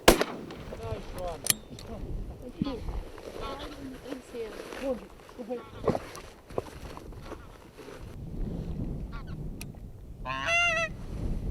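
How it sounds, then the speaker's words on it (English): Geese flying in on the wind over open Orkney countryside honk repeatedly, near and far, with a sharp shotgun blast and wind noise, and someone talking over parts of it. "These geese come in at incredible speed on the wind, but some good shooting from the guns bring a couple of them down."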